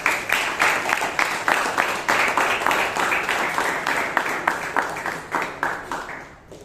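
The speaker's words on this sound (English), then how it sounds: "give yourself a big round of applause" An audience at a Toastmasters club meeting in Bangalore applauds steadily, with many hands clapping in a dense, fairly loud indoor burst that tapers off at the end.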